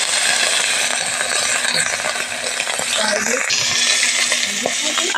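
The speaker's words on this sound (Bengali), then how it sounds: "তেলটা গরম হয়ে গিয়েছে, এবার এক মুঠো চিংড়ি মাছ দিয়ে দিলাম।" A handful of shrimp hits hot mustard oil in a pan and fries with a loud, dense sizzle, with a few metallic clinks of utensils against the pan as it settles.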